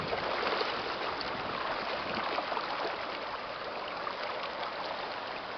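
A mountain stream in trout country rushes steadily around someone wading across on foot, a dense, close, continuous wash of flowing water without talking.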